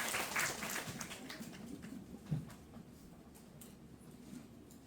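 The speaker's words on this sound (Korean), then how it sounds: "뜨거운 박수 부탁드리겠습니다." Soft, scattered applause at a residents' briefing on a redevelopment plan, strongest at the start and thinning out into faint clapping.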